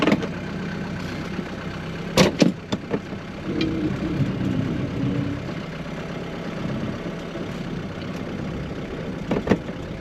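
A Mercedes W115 220D diesel car is driven on the road, its engine a steady low drone heard from inside the cabin, with a few sharp clicks and knocks over it and no talk.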